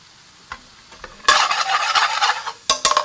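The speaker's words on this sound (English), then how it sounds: "As you can see, it's starting to bubble, starting to cook in." Chicken pathia with onions and peppers cooking in a pan: a quiet start with a few light knocks, then loud, steady sizzling and bubbling with stirring clatter, easing briefly before more sharp scrapes near the end.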